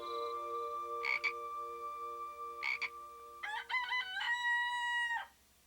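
Bullfrogs croak in a few separate bursts with pauses between them, loud and close, the last call stretching into a longer drawn-out note before stopping.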